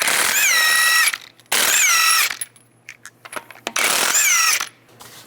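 Ratchet wrench with a 21mm socket loosening wheel lug nuts on a 2005-2015 Nissan Xterra, three loud close bursts of rapid clicking separated by brief pauses and faint handling noise.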